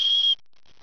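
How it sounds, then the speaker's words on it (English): Small whistle built into a ferro rod blown once, a short, clear, high-pitched tone lasting about a third of a second, close, followed by quiet. "This one has a little built-in whistle."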